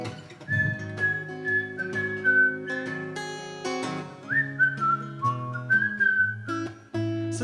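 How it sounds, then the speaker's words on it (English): A person whistles a lilting melody as part of a song performed at a songwriter showcase, the whistled line sliding between notes over steady guitar or keyboard chords, clear and upfront for the whole stretch. "Here's the whistling part."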